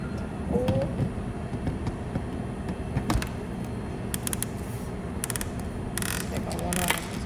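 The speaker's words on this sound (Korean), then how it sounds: "내가 원하는 분쇄도로 6 정도로 해서 살짝 갈아내주고" A home coffee grinder set to a medium grind level churns beans in a dense, low mechanical rumble, with gritty crackles and scattered clicks and a speaking voice over the grinding.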